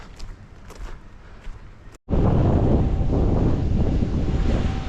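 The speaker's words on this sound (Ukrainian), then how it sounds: "Але такий вітер сильний, що здається, що той вітряк." Strong wind buffets the microphone outdoors in a berry-picking area, a loud continuous roar that surges in abruptly after a brief quieter stretch and a momentary dropout.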